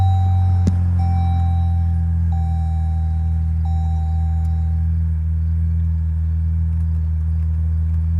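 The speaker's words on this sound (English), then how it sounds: "this is going to be a cold start" A 2024 Jeep Wagoneer idles steadily after a cold start, a loud, close, low engine rumble with a faint repeating electronic chime over the first few seconds and no talking.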